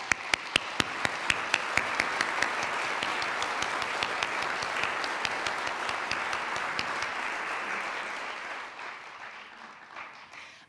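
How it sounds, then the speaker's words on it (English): Audience applause for the five finalists of a peace oratorical contest, dense clapping that opens with a few sharp near claps and fades out over the last couple of seconds. "Let's give a round of applause for the five finalists."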